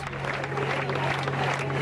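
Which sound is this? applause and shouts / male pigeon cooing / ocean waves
applause and shouts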